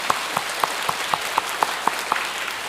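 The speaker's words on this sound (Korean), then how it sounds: "우리 주인 되신 예수님께 큰 영광의 박수를 올려드리겠습니다" Congregation applause at a Sunday church service, rhythmic unison clapping with about ten evenly spaced strong beats over a continuous bed of scattered claps.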